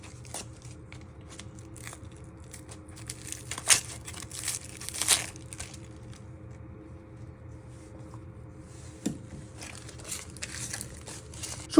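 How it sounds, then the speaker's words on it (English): Dry papery onion skin peeled off by hand in a kitchen: soft crinkling and crackling rustles with a few sharper crackles, close but fairly quiet over a low background hum. "And peel off 2 layers of the skin."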